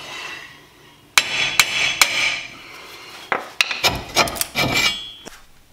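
Hammer strikes tapping on the wheel hub bracket of a 2007 Chevy Silverado 3500 Duramax, a series of sharp metallic knocks, close and fairly loud, coming in uneven bursts with no talking.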